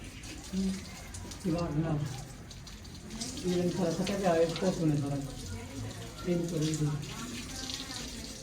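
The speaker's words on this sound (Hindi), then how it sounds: "पानी मारो यार, जितनी पानी मारोगे उतनी फायदा है।" Water runs and splashes onto a freshly laid kitchen floor in a home, a soft continuous wash heard under people talking throughout.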